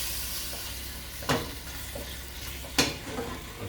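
Cumin and spices fry and brown in a pan for a lamb korma, giving a soft, steady sizzle. Two sharp scraping stirs break through it, close and quiet, with no talking.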